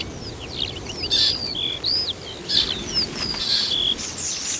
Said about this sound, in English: One of Britain's most iconic species, the skylark, is famous for its rich and intricate song.